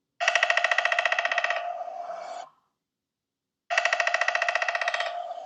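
A rapid, regular burst of sharp taps, like a woodpecker drumming, repeats twice with a pause between, crisp and close.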